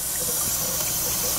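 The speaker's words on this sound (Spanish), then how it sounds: "Ahí tenemos el agua. Ya está lista la llave." Water runs steadily from a newly replaced kitchen faucet, a continuous close hiss of flow filling the sink with no talk.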